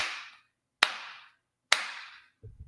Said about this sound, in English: Clap your hands to show if in sync.